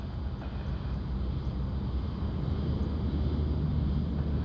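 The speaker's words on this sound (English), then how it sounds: "That's sounds like the United 863 coming in from San Francisco." The United 863 Heavy airliner, inbound from San Francisco, approaches Sydney Airport as a broad, steady jet roar that holds loud and even throughout, with no voices over it.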